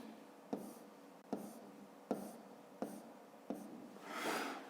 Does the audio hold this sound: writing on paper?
yes